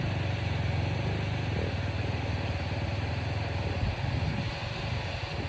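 A motorcycle rides up a rocky desert wash, its engine a steady low rumbling drone close by with a slight rise and dip in effort toward the end.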